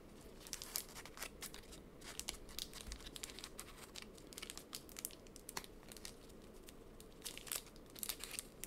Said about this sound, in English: it's taken me a while to open some of these packs